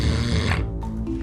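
A person snores heavily and close up, one long rough, rattling snore that fills the moment, with no talking.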